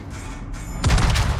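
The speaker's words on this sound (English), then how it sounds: "we're just gonna shoot the Mecklenburg for now" Heavy warship naval guns fire at an enemy battleship in World of Warships: a dense, loud burst of booming salvos rolls in suddenly and overlaps with itself, with no talk.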